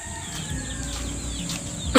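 Chickens cluck and cackle nearby in a steady farmyard chorus, with one louder squawk near the end.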